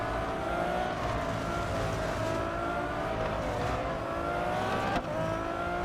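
A Ferrari race car in Real Racing 3 screams along at high revs, its engine note climbing and shifting in a continuous loud whine, with a brief drop near the end as it changes gear.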